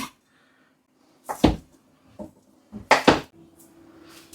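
A knife chops through corned beef on a board, with a few separate knocks and clatters spaced out across a quiet kitchen and a faint hum underneath.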